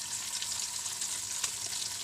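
Beef sizzles steadily in hot oil in a wok for a sambal tomato dish, a continuous close crackle with faint water-like hiss and no voices.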